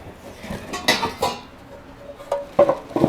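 Metal windage tray clinking and clanking into place during LS engine prep on a squarebody truck: several close, sharp metallic knocks and rattles in bursts, with quieter handling noise between them and no talking.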